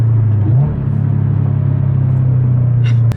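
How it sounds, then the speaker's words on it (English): Engine of a Subaru BRZ / Toyota 86 sports coupe holds a loud, steady drone close by, with a brief rev blip as it makes a quick downshift from third gear. "Do a quick downshift here."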